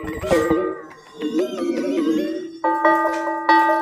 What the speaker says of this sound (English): Bell sound. Korg wave drum.